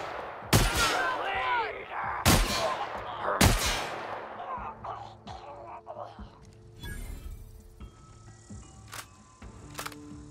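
Three loud, booming shotgun blasts from The Outer Worlds arrive a second or two apart, each with a decaying tail, followed by scattered quieter shots and clatter amid game ambience.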